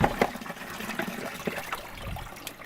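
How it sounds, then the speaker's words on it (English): Water drains out the bottom of antique glass bottles after rinsing, a faint trickling and dribbling with small irregular splashes and clinks. "See the water running out the bottom of it?"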